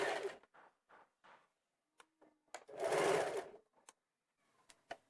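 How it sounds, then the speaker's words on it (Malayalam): Sewing machine stitching along the piping of a kurti neck, with a loud, close whirring burst in the middle, framed by shorter clicks and brief mechanical taps in an otherwise quiet room. "ഇനി ഈ പൈപ്പിങ്ങിൻ്റെ വക്കിലേക്കൂടെ നമുക്ക് സ്റ്റിച്ച് ഇട്ട് കൊടുക്കാം"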